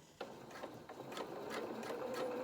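Sewing machine stitching a waistcoat pocket, fairly quiet rhythmic mechanical clatter building into a steady run of stitches, with no talking.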